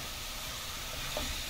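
Vegetables sautéing in a pan with little oil, a steady dense sizzle and hiss holding evenly through a brief moment, with no voices.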